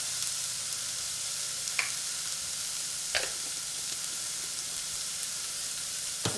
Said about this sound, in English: we're basically just going to cook this down for about 5-6 minutes until the onions are nice and soft